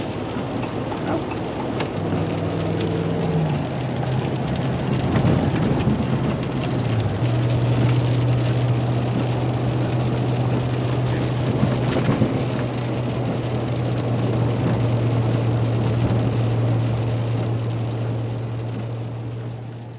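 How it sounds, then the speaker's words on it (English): Rain storm at the end of a day on the water, a dense continuous roar of rainfall with low rumbling underneath and a steady droning tone running through it. "Ended with a bit of a storm."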